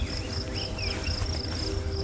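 Dense, steady buzzing of cicadas fills a thick rye food plot on a whitetail property, a continuous insect drone with rising and falling trills running unbroken throughout.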